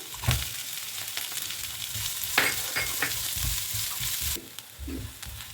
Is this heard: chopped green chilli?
yes